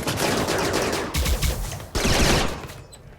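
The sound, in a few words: gunfire from colonists attacking turrets in RimWorld video game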